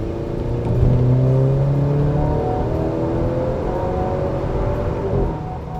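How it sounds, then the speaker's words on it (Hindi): A Maserati Grecale V6 SUV engine revs loudly and up close in sports mode, a sustained growl with pitch sweeping upward through the gears, steady and alone without talk. "What adds to the fun element of Grecale is the sound it makes."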